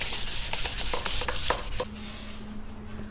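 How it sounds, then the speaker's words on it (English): Rhythmic scratchy strokes of sandpaper lightly rub across chalk-painted furniture for about two seconds, close and brisk, then stop, leaving a quiet hum. "We're just giving it a light sanding over the whole thing."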